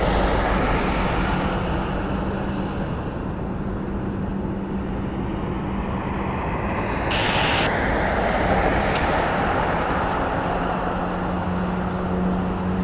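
A fixed-wing airliner flies near Las Vegas Harry Reid International Airport, a steady broadband engine roar holding at a constant level for the whole stretch, with no voices.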